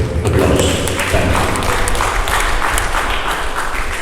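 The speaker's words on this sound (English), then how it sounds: "Let's give him the round of applause" A seminar audience applauds a speaker in a hall, steady dense clapping that holds at an even level throughout the few seconds.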